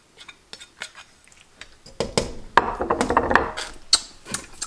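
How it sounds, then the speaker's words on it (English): Cooked beef with onions tumbles into a pot, a cluster of close, clattering scrapes and knocks of a utensil against the pot following a few sparse taps. "I'm going to dump the beef in. Get every little piece."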